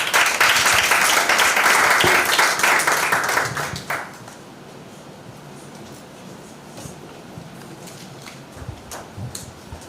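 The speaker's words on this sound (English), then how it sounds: "Please give the leader a round of applause." Audience applause at a high school debating competition during Law Week, welcoming the leader of the proposition: loud, dense clapping fills the hall for about four seconds, then drops away to a quiet room with a few faint scattered sounds.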